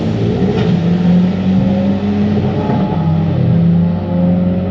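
A Ford Mustang Shelby GT500 and a Tesla Model 3 Performance drag racing. A loud, close engine roar and rising whine accelerate steadily, with no talking.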